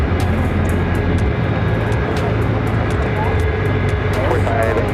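An American Airlines airliner takes off at Phoenix airport with a loud, continuous roar of jet engines, and a radio voice is faintly audible beneath it.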